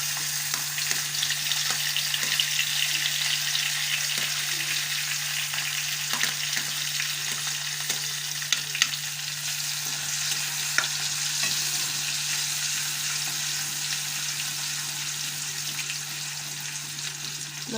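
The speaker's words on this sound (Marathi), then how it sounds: "तेल गरम झालंय। आता मी लसूण आणि मिरच्या ज्या ठेचून ठेवलेल्या ना" Crushed garlic and green chillies fry in hot oil for an aloo methi dish, giving a steady, close, bright sizzle that crackles evenly throughout with no voices.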